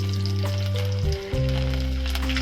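Hot oil sizzles and crackles steadily in a pan as garlic fries after mustard seeds, with soft background music humming underneath.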